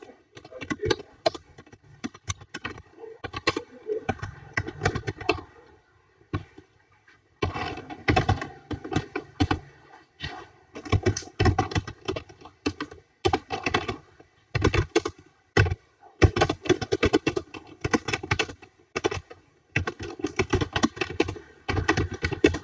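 Typing on a computer keyboard, bursts of rapid close key taps separated by short pauses, fairly quiet, with no talking.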